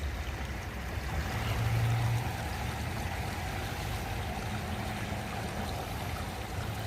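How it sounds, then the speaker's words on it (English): A small, murky creek flows at night in Cotati, California, giving a steady, even rush of water throughout, with a faint low rumble and no talking. "What a gross little funky creek."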